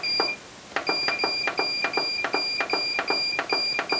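Button beeps from a Cuisinart ice cream maker, a rapid series of about a dozen short, high electronic tones with sharp clicks, close and clear, pausing briefly after the first press.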